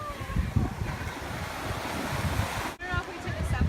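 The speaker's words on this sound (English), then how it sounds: "Lovely ocean, love it." Ocean waves wash in at a sunny beach as a steady broadband roar, close and moderately loud, with gusts of wind buffeting the microphone.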